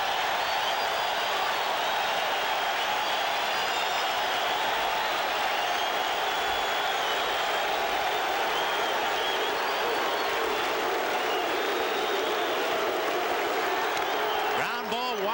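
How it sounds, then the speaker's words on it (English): A packed baseball stadium crowd roars continuously during a 1986 World Series game between the Mets and Red Sox, a broad sustained wash of cheering and clapping at the ballpark. "And listen to this crowd now"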